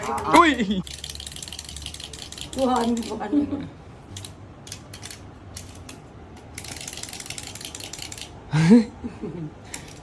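A wind-up toy mechanism whirs with steady fine ratcheting clicks throughout, heard close, while people talk over it and a toy squawks now and then.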